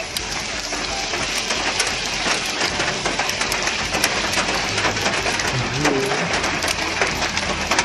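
Heavy hailstorm rain falling in Ooty, a steady loud dense roar of hail and rain pelting surfaces, continuous and close throughout with no talking.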